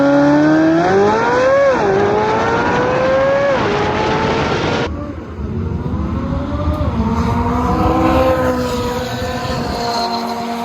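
A C8 Corvette Z06 and a McLaren 570S launch side by side in a drag race, engines roaring loud and close through rising revs with gear shifts and a sharp drop midway, then a continued strained howl as they pull away.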